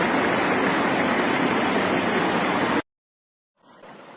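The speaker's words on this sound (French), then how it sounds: "je suis au pied d'une cascade." A mountain waterfall and torrent give off a dense, steady roar of rushing water that fills the first three seconds. It cuts out abruptly to silence, then returns more faintly near the end.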